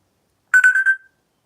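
A telephone rings once, a short, clear electronic trill of about four quick pulses that sounds close and stands alone against silence.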